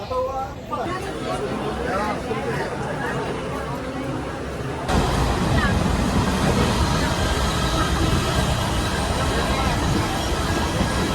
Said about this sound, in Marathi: आम्ही बसलो आता ट्रेनमध्ये